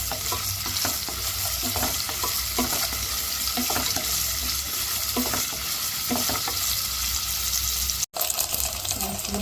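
Onions with a pinch of salt frying in a pan for chicken dum biryani, a continuous close sizzle broken by regular scraping strokes of a stirring spoon, with a momentary cut near the end.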